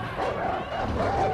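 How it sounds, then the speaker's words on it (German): Dogs barking, yipping and whimpering in the Far Cry New Dawn video game, a continuous, close, busy stretch of canine noise. "die Hunde können weg"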